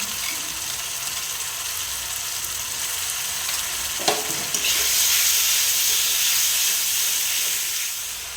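Onion frying in a pan with ginger, cumin, chili and garlic, a constant close hiss of sizzling oil that swells louder and brighter halfway through, with a brief clatter of stirring, no voices.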